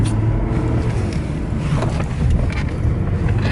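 A car rolls down a quiet side street after a brake job, with a steady, close rumble of engine and road noise and no one talking.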